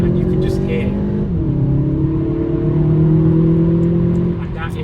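An Audi A1 Competition Line engine pulls hard as the car accelerates on a straight from about 30 mph toward 70 mph, with a steady, loud drone whose pitch dips at a gear change and then climbs again.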